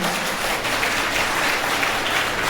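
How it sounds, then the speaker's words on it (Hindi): An audience in a legislative assembly hall claps to welcome a guest, producing steady, dense applause that holds at an even level throughout. "पूरा सदन कर्तव्य ध्वनि से अगर इनका स्वागत कर देंगे"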